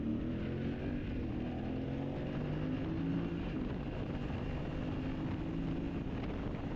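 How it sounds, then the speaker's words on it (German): A Yamaha Ténéré 700 Rally motorcycle accelerates at highway speed, its steady engine drone rising slightly in pitch under heavy, continuous wind rush, with no talking. "Geben wir mal Gas wieder."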